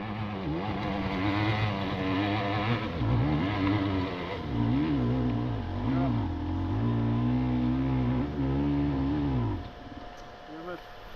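A GasGas enduro motorcycle engine revs hard and close for about nine and a half seconds, its pitch climbing and falling with repeated throttle blips before cutting off, and a voice talks briefly underneath.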